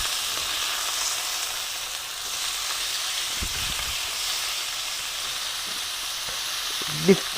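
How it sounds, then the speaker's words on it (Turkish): Julienned beef steak fries in a hot pan with a steady, close sizzle and hiss, broken by a few faint stirring scrapes and one brief clink near the end, with no talking. "güzel tavada kavuracağız"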